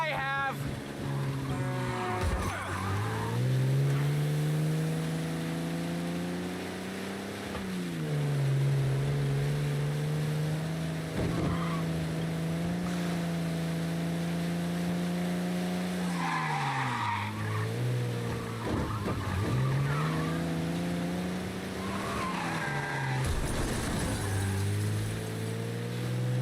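Engine roar from a fast car in a chase in the Mafia Definitive Edition video game, loud and sustained with pitch rising and falling through gear changes, with brief tire skids and speech over it.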